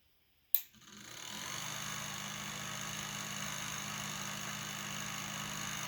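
A converted old fan motor, reassembled in its cage, starts with a sharp click and then runs with a continuous, steady hum and whir, close and moderately quiet, with no speech.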